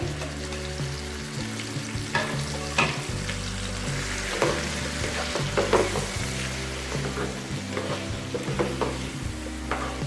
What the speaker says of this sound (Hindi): अब हम इसमें 2 दरमियाने साइज के टमाटर कटे हुए डालेंगे, बरीक किए हुए।